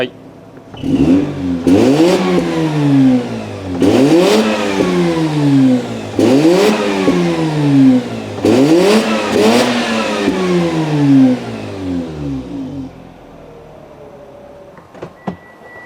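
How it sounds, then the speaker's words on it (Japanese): A Mazda RX-8 Spirit R rotary engine revs up through its exhaust in five sharp, rising bursts, each quickly dropping back to idle, loud and close, then settling. "じゃああとはマフラーサウンドいってみましょうか。"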